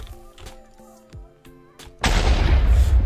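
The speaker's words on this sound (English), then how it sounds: "Oh, that is a big explosion" A multiplied TNT explosion in modded Minecraft sets off a sudden loud, broad roaring blast about two-thirds through, after a stretch of quieter thuds and clicks, and the blast rumbles on steadily to the end.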